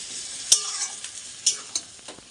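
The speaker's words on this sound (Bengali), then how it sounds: "আর চিকেনটা আমি এখন কষাচ্ছি।" Chicken being sautéed in a pan, a soft sizzle broken by a few sharp scraping strokes of the spoon, close and brief.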